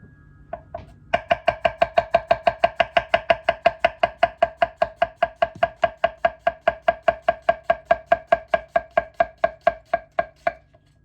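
A Sukenari HAP40 210 mm kiritsuki knife slices through potato in a steady run of about forty crisp, evenly spaced cuts, each ending in a sharp tap on the board, close and loud with no talking.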